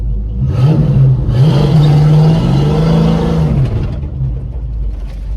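A Chevelle's engine revs and accelerates hard, its deep, loud exhaust note rising and falling in pitch over several seconds before settling to a rumbling idle.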